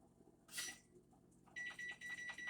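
A kitchen timer set while cooking a zucchini stir fry gives a quick series of high electronic beeps in bursts, alongside a short hiss and faint background noise.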